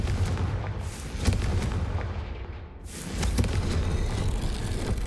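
Confringo explosive spell cast in the Hogwarts Legacy video game, producing loud booming blasts and crackling impacts over a dense rumbling game soundtrack, with a brief dip midway before the noise swells again; no talking.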